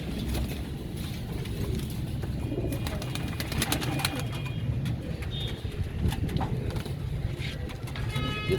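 Pigeons coo softly amid a steady outdoor hum of traffic, with occasional faint chirps and light background voices.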